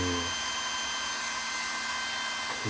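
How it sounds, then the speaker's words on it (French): A small cooling fan spins on an RC car, the WiRC-equipped GT4 build, giving a steady, fairly loud electric whir that stays constant throughout, with no talking. "Le ventilo tourne, le petit tourne"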